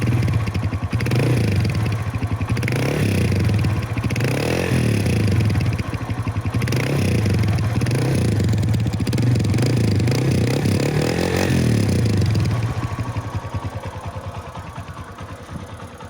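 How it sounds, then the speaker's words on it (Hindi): A Suzuki Fiero motorcycle engine runs with a deep, throbbing exhaust note and rhythmic revving pulses, loud and close, easing off toward the end. "इसका एग्जॉस्ट नोट भी आइकॉनिक था"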